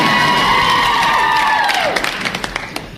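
A wrestling show audience erupts in loud cheering and whooping, a dense roar of voices that holds steady, then begins to fade into scattered claps and shouts near the end.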